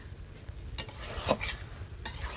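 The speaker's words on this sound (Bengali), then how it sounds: "টাটকা ইলিশ ঝাটকা দিয়ে রান্না করছি" Fresh young hilsa fish frying in a pan in a village kitchen, a low steady sizzle with a few scraping stirs of a spatula, close and alone with no talking.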